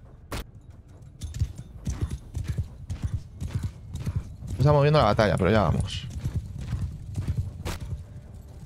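Horse hooves gallop in a Mount and Blade 2 Bannerlord battle, a fast, steady clip-clop running throughout while someone talks loudly over it.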